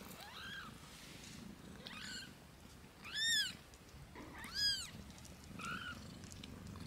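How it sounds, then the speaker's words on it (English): A cat meows repeatedly, several short rising-and-falling meows spaced a second or so apart, fairly close in a quiet room. "Tahun ni Abby ada kitten"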